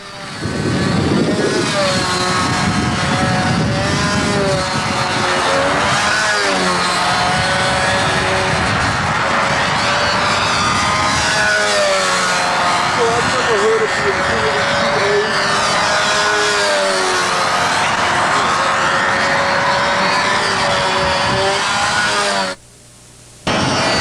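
A Super Tigre 51 glow engine without a tuned pipe runs a control-line stunt model airplane outdoors on a calm day, a loud steady buzzing drone with slight pitch swells, briefly cutting off near the end before resuming.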